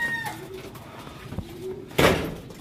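Racing pigeons in a loft, both young and old birds, coo softly in low repeated phrases, with a brief burst of louder fluttering noise near the end.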